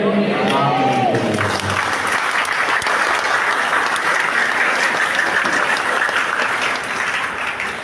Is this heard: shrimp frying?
no